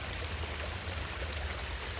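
Continuous babble of running water from a nearby stream, even and fairly loud, with no one speaking.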